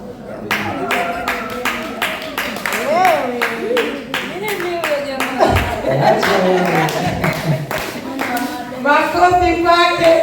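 A crowd at a youth gathering for a night of gift exchange in Tegeta claps in a quick, rhythmic burst while voices call out and sing loudly over the applause.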